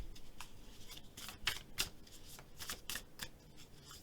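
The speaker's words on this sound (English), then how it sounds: "One more quick shuffle here." A deck of tarot cards is shuffled by hand in quick bursts of papery riffling and flicking, several close, crisp ripples over a few seconds with short pauses between.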